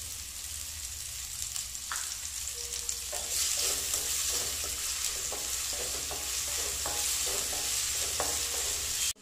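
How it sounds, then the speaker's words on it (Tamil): Onions sauté with a little salt in a pan while an appalam curry is being made. A steady sizzle runs throughout, broken by a series of rhythmic scraping stirs of the spoon against the pan, all without speech. "நமக்கு வெங்காயம் சீக்கிரமாக வதக்கணும்னா லைட்டாக நம்ம சால்ட்டு கூட ஆட் பண்ணிக்கலாம்"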